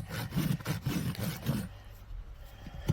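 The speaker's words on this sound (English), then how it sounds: "as I'm moving my rasp around the outside of this foot" A farrier's Heller XL rasp scrapes around a draft horse's hoof wall in steady rough strokes, loud and close for the first half before trailing off into quieter rustling.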